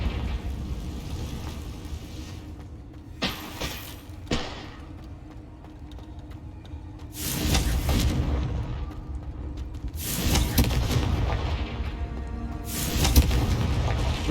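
Confringo blasting spells cast in Hogwarts Legacy, heard as several sharp, loud blasts scattered through the stretch, with rumbling booms over a steady low background.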